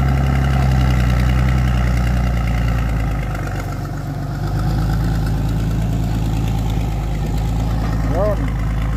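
A truck engine idles steadily with a low, continuous rumble and vibration, close by on a seaside shore, with faint background noise throughout.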